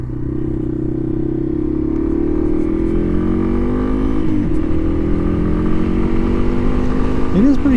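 A 2012 Yamaha XT250 single-cylinder motorcycle cruises steadily at highway speed, its engine drone loud and continuous with some wind roar and slight pitch shifts as the throttle changes.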